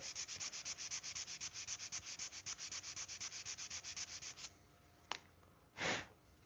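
Steady rhythmic sanding strokes on a handmade knife handle, about twenty quick back-and-forth rubs in a row, close and fairly quiet, ending with a few isolated scrapes and a breathy rasp.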